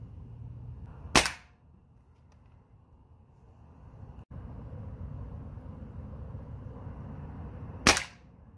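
A Diana Stormrider .22 PCP airgun fires pellets at a target 15 yards away, giving two sharp, loud shots about seven seconds apart over a low outdoor rumble.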